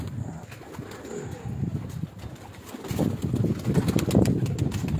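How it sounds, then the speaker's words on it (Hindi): Pet pigeons coo in low rumbling bursts on a rooftop loft, close by, with wind and handling noise around them. "बहुत प्यारा कबूतर है।"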